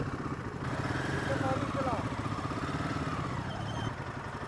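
Motorcycle engine idling nearby with a steady low throbbing rumble, roadside at a restaurant stop, with voices talking over it.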